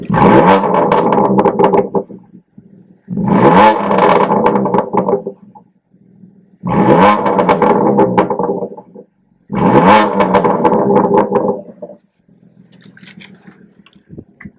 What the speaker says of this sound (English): That's quite a loud exhaust.